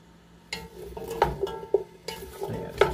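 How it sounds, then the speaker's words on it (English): Spicy vegan 13-bean soup cooking in a large pot, with a soft bubbling simmer and a few scattered clanks and scrapes of a spoon against the pot, heard up close with no voices. "You can hear it's cooking."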